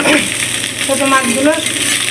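Small fish fry in hot oil with onion, garlic and chilli, a soft sizzle and stirring scrape running close by while a person talks over it.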